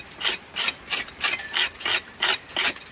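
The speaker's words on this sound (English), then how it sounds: "And that really pays off when it comes to dressing the mortar up like this." Rough scraping strokes of a tool dressing lime mortar pointing between the stones of a wall in Scotland, about nine rasping passes in a steady back-and-forth rhythm, close and fairly loud with no talk.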